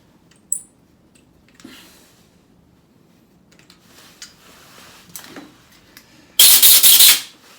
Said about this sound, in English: I've just drilled it out. Now putting the tap in.